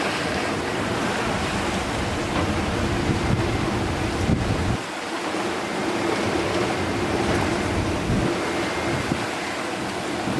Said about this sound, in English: Well, the wind picked up again.